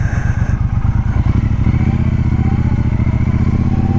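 A Honda Rebel motorcycle rides fast, its engine a loud, steady throbbing drone with rapid low pulses, shifting slightly in pitch early on and then holding a constant high-speed rumble up close.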